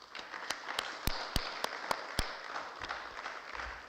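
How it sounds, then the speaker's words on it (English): A few people in an auditorium at an association's general meeting clapping, distinct separate claps spaced out at first and then tailing off into quiet room noise, faint and distant. "let us clap."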